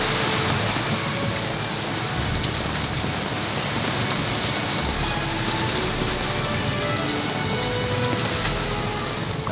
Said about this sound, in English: I'd say we got another like hour or so of like fairly heavy rain